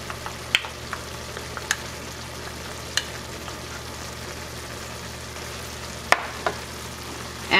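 Santa Cruz chili paste stirred into taco filling in a hot pan gives a steady low sizzle and frying hiss, broken by occasional sharp clicks and scrapes of the stirring utensil.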